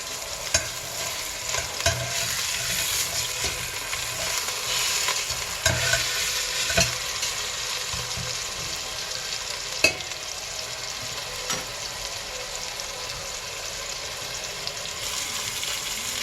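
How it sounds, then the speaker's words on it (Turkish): Meat frying in hot oil, a steady loud sizzle throughout, with occasional clicks and stirring scrapes, no talking. "Bir de sıvı yağda çevireceğim."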